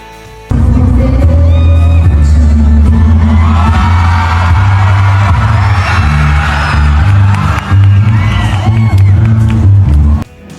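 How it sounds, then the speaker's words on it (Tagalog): A large crowd cheers and shouts loudly and continuously at a couple's dance performance, with whoops over a sustained roar and music underneath. "Lalong hiyawan ang mga tao nang biglang lumuhod si Richard at lumapit si Lucy para halikan siya sa lips."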